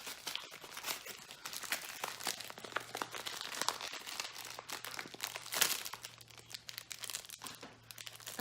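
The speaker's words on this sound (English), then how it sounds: "We're going to go for number 4, which is in a paper envelope." A paper envelope package is torn and opened up close, with continuous crinkling, crumpling and ripping of paper in quick irregular bursts, fairly quiet and with no talking.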